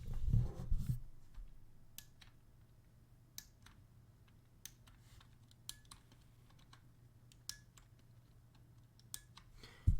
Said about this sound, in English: So on the keys you use most, you will develop this very high pitched sound.